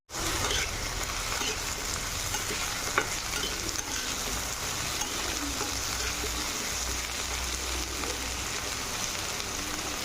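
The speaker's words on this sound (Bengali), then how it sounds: "আলুটাকে একটু ভেজে নেব।" Potatoes fry in hot oil with a loud, continuous sizzle and occasional stirring, close and steady throughout without speech.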